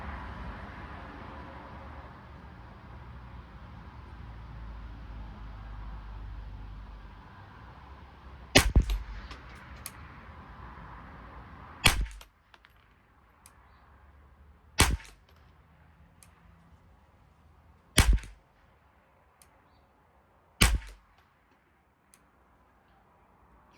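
A Bergara BXR .22 rifle firing CCI standard velocity ammunition lets off five sharp, separate shots a few seconds apart, loud against a quiet outdoor background.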